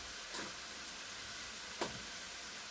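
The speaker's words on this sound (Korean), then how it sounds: "떡볶이를 해서 보여주면 깜짝 놀란다. 지글지글 소리 난답니다" Tteokbokki fries in a pan with a faint steady sizzle, broken by two brief stirring scrapes.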